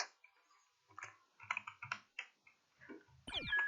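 Quiet, irregular clicks of keys being typed on a computer keyboard during a game of Among Us, close by, ending in a brief louder burst of rustling noise.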